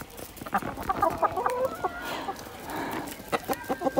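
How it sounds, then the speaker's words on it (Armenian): Hens cluck repeatedly at feeding time by a farmyard door, several birds close by with short irregular calls and a rooster-like note, no talk. "հավերին կուտալու ժամն է, եկել են դուռը կտրել"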